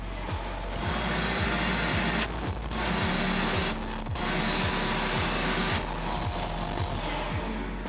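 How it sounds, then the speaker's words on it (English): A shop vac with a filter bag fitted runs in a steady, loud whoosh, rising in brief surges as it sucks up debris, with no talking. "Let's go ahead and get vacuuming."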